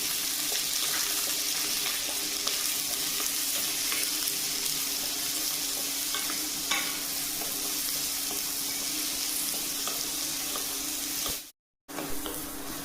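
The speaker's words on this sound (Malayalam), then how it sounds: "ഇതിലേക്ക് നമുക്ക് ആവശ്യത്തിനുള്ള ചെറിയ ഉള്ളി അരിഞ്ഞതും, ഇഞ്ചി, പച്ചമുളക്, വെളുത്തുള്ളി അരിഞ്ഞതും കൂടെ നല്ലതുപോലെ വഴറ്റിയെടുക്കാം" Chopped shallots, ginger, green chilli and garlic sauté in a pan for a thick shrimp-and-shallot curry, a steady close hiss of frying with a few faint stirring scrapes and a brief drop to silence near the end.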